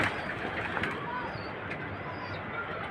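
Pigeons in a loft coo softly beneath a steady, noisy background, with scattered faint chirps and a brief flutter of wings; no clear voices stand out.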